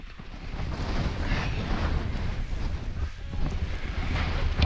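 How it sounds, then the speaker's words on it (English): Strong, gusty wind buffets the microphone on a hillside in the Cheviots during a wild storm, a loud continuous roar with surging gusts and no talking. "And it's even worse, the wind now. It's horrendous."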